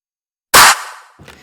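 A single rhythm clap drum sample in an electronic production hits sharply and loudly, a bright burst with a short decaying tail, followed by a fainter second hit near the end.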